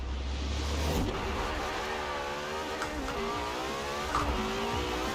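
Lamborghini Huracan Performante in Forza Horizon 4 revving hard, its engine note climbing and barking against the rev limiter in repeated surges, loud and close with no talk over it.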